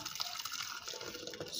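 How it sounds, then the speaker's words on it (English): Dissolved salt solution for making SLES liquid is poured into a beaker, giving a steady, close splashing trickle of liquid that runs unbroken and fairly quiet, with no voices. "So I'm going to pour this back into my beaker"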